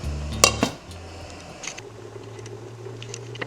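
A lid clatters onto a pot of mushroom and wild rice soup made with unsalted vegetable stock, giving a sharp metallic clink and rattle up close, followed by a quiet, steady low hum.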